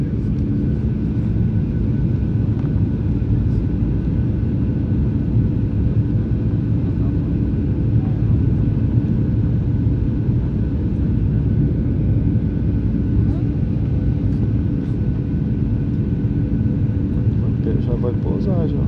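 Airplane cabin on landing approach into São Paulo near tall buildings, a steady loud engine and airflow roar filling the whole stretch, with people talking faintly under it.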